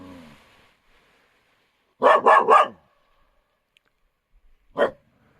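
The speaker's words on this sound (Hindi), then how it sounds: "इधर से एकदम गुर्राता हुआ आता है और ये भौंकता है" A dog at a jungle resort near Rajaji forest barks in a quick burst of three sharp barks, then a single bark after a pause, fairly close and loud against near silence.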